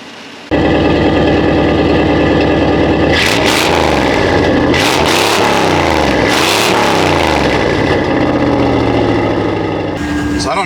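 A 1988 Chevy truck engine cranks and fires after sitting a long time, then settles into a loud, close idle broken by several sharp revs that rise and fall before easing back.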